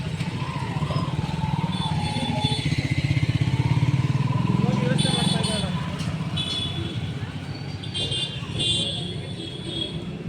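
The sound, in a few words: vehicle approaching, motorcycle engine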